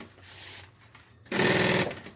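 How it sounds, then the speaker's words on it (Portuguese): A sewing machine stitches the fabric lining of a bag. A quieter stretch of handling gives way to a loud, close, rapid mechanical whir that runs for about half a second before stopping. "Cuidado para não costurar a parte de baixo"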